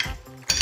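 Potatoes coated in oil being turned in a dish, a short burst of utensil clinking against the dish after a brief lull, close and alone.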